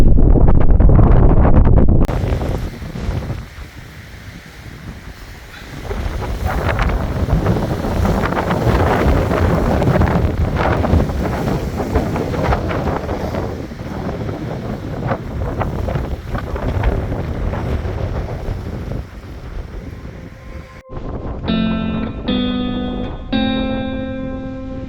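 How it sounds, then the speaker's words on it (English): Strong morning wind on a mountain during an overland trip buffets the microphone in a rough, roaring rush that surges and eases for about twenty seconds, then cuts to a short stretch of clear tonal sound at the end. "A beautiful windy morning."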